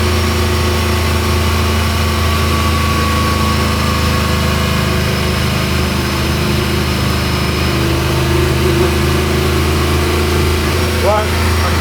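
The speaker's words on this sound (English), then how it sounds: "you can't tell me that doesn't sound like an old NASCAR" The IndyCar engine of a Martini Mustang Fastback idles loudly and roughly throughout, its low rumble constant with no revving and no voices.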